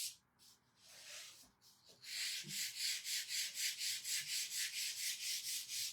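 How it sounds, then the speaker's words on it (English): Light sanding across a painted wooden pumpkin, starting with a few scattered rubs and then settling into steady, regular back-and-forth strokes, close up and alone with no talk. "I'm just going to sand it down lightly."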